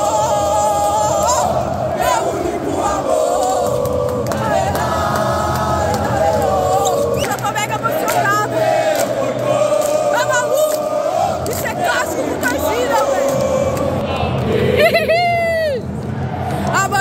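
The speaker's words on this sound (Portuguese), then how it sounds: "A mancha tá fenomenal, a mancha não para de cantar." Palmeiras supporters' group chanting in the Mineirão stadium at a Supercopa match against São Paulo: a dense, loud, continuous mass of singing voices, with someone talking close by over the crowd.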